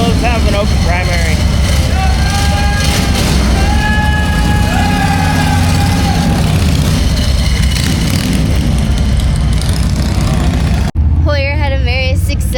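A turbocharged Harley Davidson Road Glide motorcycle running at a bike night outside a saloon, a loud steady rumble with whistling whines rising and falling over it, and voices talking throughout.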